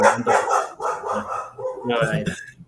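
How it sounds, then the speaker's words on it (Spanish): A pet dog barking indoors, several short barks spaced through the clip, fairly close, mixed with speech. "mi perro Zelda está ladrando"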